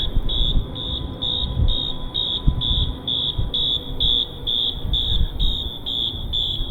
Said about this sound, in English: it's right there in that electrical utility unit. Some kind of alarm going off